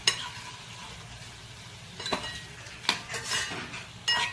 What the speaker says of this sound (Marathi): आता याच्यामध्ये काजू टाकून घ्यायचे आणि फिरवायचे।